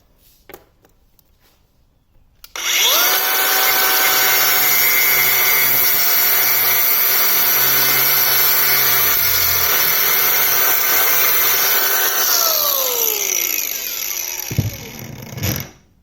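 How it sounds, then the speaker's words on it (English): A flap wheel on a power tool spins up and cuts through a hose, a loud, steady close-up whine held for about twelve seconds before winding down, with no talking. "I'm going to cut that off with a flap wheel right on that line."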